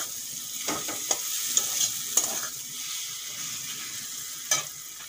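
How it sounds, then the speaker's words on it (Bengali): Fried potatoes are stirred with spices in a hot pan, a steady close sizzle broken by several sharp spatula scrapes and knocks at irregular intervals, with no talking. "মশলার সঙ্গে আলু কিছুক্ষণ কষিয়ে নেব।"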